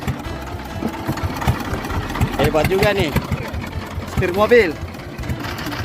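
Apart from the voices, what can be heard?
boat engine being started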